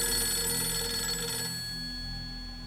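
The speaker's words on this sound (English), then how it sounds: "Or we'll get a phone call." Telephone rings inside a house in the video game Fatal Frame 3, a steady electronic ring with bright tonal bands over a constant background hum, fading slightly toward the end, no voices.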